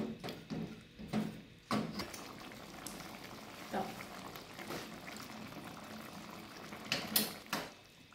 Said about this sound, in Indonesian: Masak hingga kentang dan daging empuk bersamaan dan air menyusut, dan sambil diaduk-aduk terus.